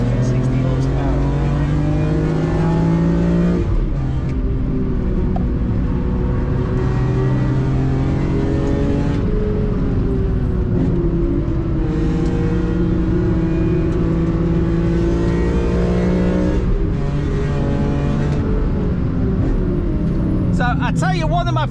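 A stock 360-horsepower BMW M3 CSL with SMG gearbox driven hard around the Nürburgring, its engine droning loudly and continuously with rising and falling pitch through gear changes, heard from inside the car while voices talk over it.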